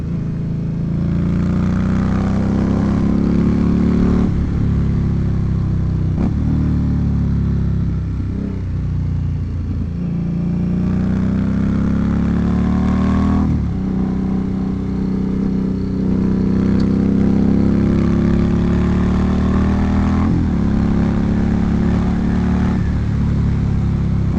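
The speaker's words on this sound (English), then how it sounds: "That was just a quick little deceleration and acceleration test, just to see how it sounds in both mics." A motorcycle engine runs loud and steady for the whole stretch, easing off and picking back up in repeated cycles of deceleration and acceleration, recorded close with no voices.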